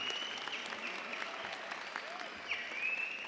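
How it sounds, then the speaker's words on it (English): Graduation ceremony crowd applauding the valedictorian and student speakers at Merritt College, a steady distant wash of clapping under faint crowd noise and a few high whoops. "Another round of applause for our valedictorian,"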